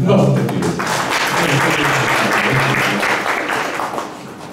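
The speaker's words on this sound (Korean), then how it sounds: "큰 박수 부탁드리겠습니다." Audience clapping fills the room after a question-and-answer session at a startup investor forum, a loud sustained burst of applause running steadily for several seconds before tapering slightly at the end.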